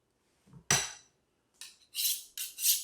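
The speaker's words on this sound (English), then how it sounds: "we're going to set the boning knife down" A boning knife is set down on a cutting board while a bone-in ribeye loin is being trimmed. A sharp, close clack lands first, then several brisk metallic swipes follow in quick succession.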